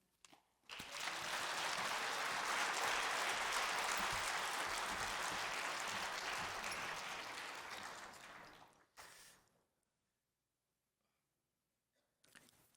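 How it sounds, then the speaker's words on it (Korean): A church congregation at a deaconesses' dedication service gives sustained, full applause welcoming the pastor. The clapping swells quickly and holds for about eight seconds, then fades. A brief second burst follows, then quiet, then another short burst. "하나님께 영광의 박수 올려드리고 우리 목사님께도 큰 박수로 맞이하겠습니다"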